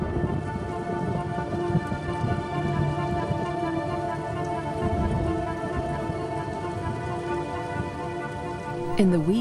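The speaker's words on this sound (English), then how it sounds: "the rains continue to fall in a ceaseless torrent" Heavy rain pours steadily in the wild during a rainy season, a dense continuous hiss of drops on surfaces with a low rumble beneath, loud and unbroken throughout.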